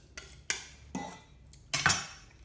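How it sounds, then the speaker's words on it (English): A metal garlic crusher presses and scrapes garlic, giving four sharp clacks and scrapes spaced unevenly over a couple of seconds, close and fairly quiet with short gaps of near silence between them. "get yourself a garlic crusher. Open it up, throw it in,"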